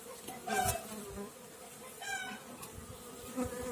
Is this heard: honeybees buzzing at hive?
yes